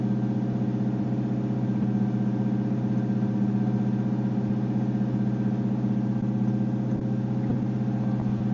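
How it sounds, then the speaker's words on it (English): A cold Chevrolet Monte Carlo SS carbureted engine high-idles at a steady, elevated speed, a constant droning hum with no changes in pitch, close by and fairly loud throughout. "It's high idling, but it's cold, so let's see."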